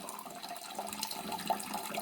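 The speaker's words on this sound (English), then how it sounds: "we'll be speaking over the sound of running water the whole time." Water runs steadily from a tap into a sink, a faint continuous splashing hiss with small bright spatters, alone and uninterrupted.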